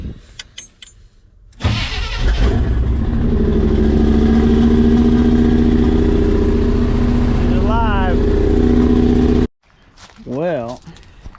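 A Chevy 3/4 ton truck's engine catches after cranking and runs steadily, a loud close rumble that holds for several seconds before cutting off abruptly, with brief speech at the end.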